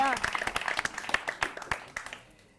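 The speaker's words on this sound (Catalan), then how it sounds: "Gràcies per al comodí, aplaudim-lo" A studio audience on a Catalan spelling game show claps briefly, sharp individual hand claps at first that thin out and fade after about two seconds.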